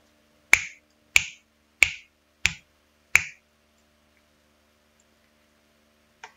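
Five crisp finger snaps at an even, unhurried pace, close and clear against near silence, followed by a pause and one faint click at the end.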